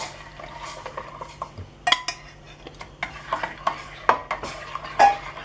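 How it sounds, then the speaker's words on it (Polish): Steady stirring of a mixture poured into boiling milk in a pot, with repeated light clinks and scrapes of a utensil against the sides, close and moderately loud. "Do gotującego mleka wlewamy naszą masę i mieszamy."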